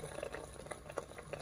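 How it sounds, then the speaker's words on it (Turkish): Red pepper soup preserve boils in a pot, giving quiet, irregular bubbling pops and soft blips close by over a low background hum. "Zaten kaynıyor."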